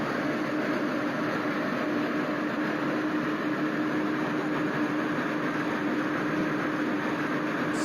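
A train in the video game Train Simulator Classic, set in India, gives a steady, loud, unbroken rumble and hiss with no talk.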